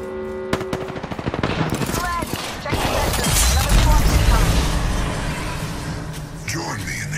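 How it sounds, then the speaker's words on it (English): Enemy gunfire in a shooter video game: rapid automatic bursts rattle close and loud, then give way to a heavy rumbling blast and roaring wash of noise, with game voices heard among the shots. "The enemies are shooting at me."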